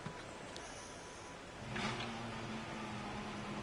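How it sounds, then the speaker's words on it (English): A Formula 1 car's engine revs in F1 2018, Belgium round, with a low idle rumble before a louder rising surge partway through, then a steady droning hum; no speech. "Teammate certainly's got his engine ready, blasting, I can hear him."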